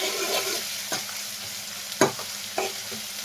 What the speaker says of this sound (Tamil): சேர்த்துட்டு வெங்காயம் சேர்த்து ஆரம்பிச்சிடலாம்